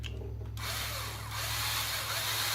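A power driver screws down the front bumper brace on an Arrma Kraton V3 2018 RC car, a T-Bone Racing XV4 2.0 bumper, giving a close, steady whirring buzz that starts abruptly after a brief pause and runs continuously without talk.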